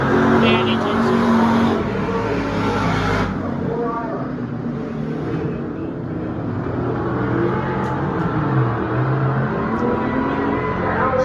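Race cars roaring past at a dirt track race, a Camaro among them, a loud continuous engine drone rising and falling as the cars pass, with people talking over it throughout.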